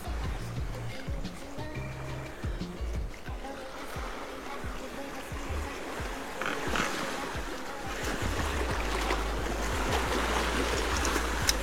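A large boat rumbles past over steady splashing water and wind, its engine noise swelling gradually toward the end.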